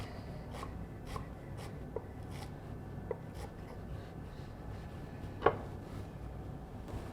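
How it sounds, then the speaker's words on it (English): A knife slices through folded cilantro on a cutting board with soft, spaced chopping taps, faint and close, one sharper knock near the end, no voices. "I remove most of the stems, fold it up, and then just slice away."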